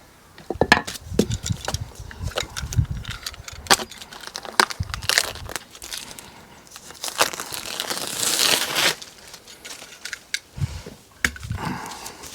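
Plastic weed control sheet being laid over a shed base, irregular crinkling, rustling and sharp crackles from handling the sheet, with clattering knocks interspersed throughout at close range.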